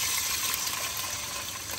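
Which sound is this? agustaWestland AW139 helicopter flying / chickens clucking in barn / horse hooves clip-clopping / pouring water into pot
pouring water into pot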